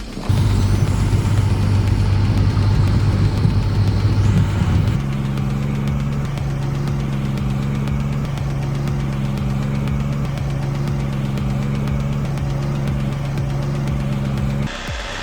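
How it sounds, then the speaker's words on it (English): A Kenworth logging truck engine drones steadily on a timber transport road, loud and close at first, then dropping to a lower, even rumble with a rhythmic pulsing, and no talk. "The Kenworth also shows impressive speed on the transport road toward the timber shipping area"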